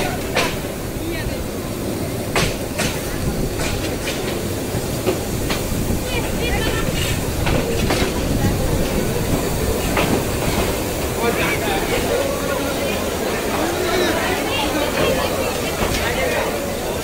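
The Tista Express intercity train runs through heavy rain between Mymensingh and Dhaka, with a loud steady rumble, rhythmic wheel clatter and sharp clicks, and voices murmur faintly beneath the noise.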